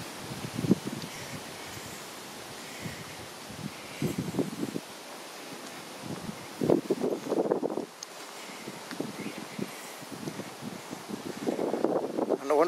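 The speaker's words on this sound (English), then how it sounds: "Excuse the breeze and the wind." Wind buffets a microphone outdoors along a new footpath, a continuous rumbling wash with rustling gusts rising and falling, and muffled voice-like bursts mixed in.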